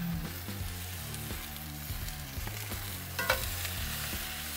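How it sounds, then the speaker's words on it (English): Garlic and sautéed vegetables with rolling tomatoes stirred in a hot pan for birria tacos, a steady frying sizzle under rhythmic scrapes of the utensil, with a brief clatter near the end and no talking. "Let's give that a good stir."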